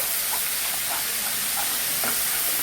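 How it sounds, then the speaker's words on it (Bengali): Ginger and black pepper frying in a pan, a steady dense hiss of oil with faint soft stirring strokes underneath, close and even throughout. "এটা কিন্তু ভালো করে নেড়ে নিতে হবে, আদার কাঁচা গন্ধটা যাওয়া অবধি।"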